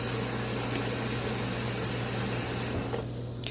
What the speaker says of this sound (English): I'm gonna fill the water bath a little bit more, not too full